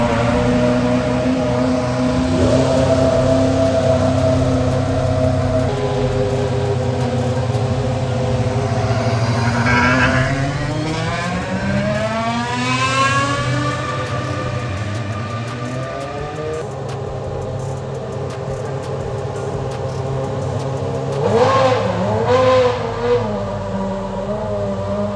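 A Ferrari engine at the Ferrari Racing Days meet in Abu Dhabi fires up and idles loudly nearby. It then rises through several sweeping revs and settles again, with a sharp blip near the end and no talking.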